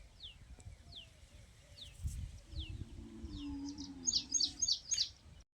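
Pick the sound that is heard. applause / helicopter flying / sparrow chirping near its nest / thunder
sparrow chirping near its nest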